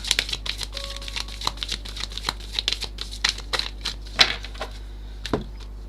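Tarot deck being shuffled by hand, a run of quick papery riffles and taps in irregular bursts, close and crisp over a low steady hum.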